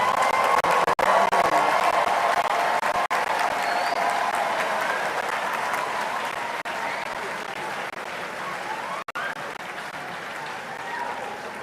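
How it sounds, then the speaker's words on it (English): Audience applause for graduates at a university congregation ceremony at KNUST, a dense, loud, sustained clapping from a large crowd that carries on evenly throughout. "Shall we please, in unison, give them a loud round of applause?"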